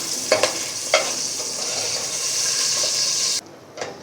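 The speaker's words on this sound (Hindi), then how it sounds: "अब हम इसी तेल में एक डालेंगे प्याज जो कि हमने काटी है दरमियाने साइज़ की। इसे भी हम फ्राई कर लेंगे।" Medium-cut onions frying in hot oil in a pot give a steady, loud sizzle with a few stirring scrapes, before it cuts out abruptly near the end.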